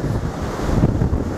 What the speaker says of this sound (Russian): а волны даже почти вот до сюда достают, на 10 метров вперед.